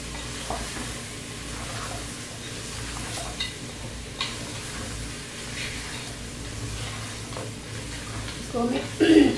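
Bhuna gosht frying in a pan as crushed coriander and turmeric are stirred in, with a steady close sizzle under repeated scraping stir strokes and a louder clatter at the end.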